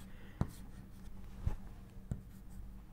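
Three short, distinct pen or chalk strokes during a physics lecture on electrical conduction, quiet and isolated against a soft room hum.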